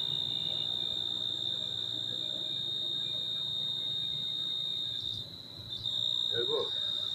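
A cricket chirps close by in a continuous high, steady trill that dips briefly and then resumes, with faint background noise and some low rustling near the end.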